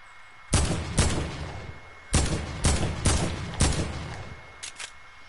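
AK rifle fire in a video game: several sharp, loud bursts of shots spaced a second or so apart, the last pair quieter, with no talk over them.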